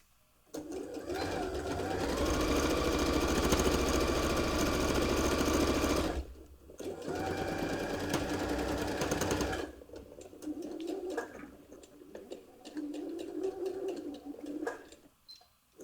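A sewing machine stitches fabric for a zipper bow clutch in long continuous runs, a loud steady whirring hum that stops briefly, resumes, then breaks into shorter bursts.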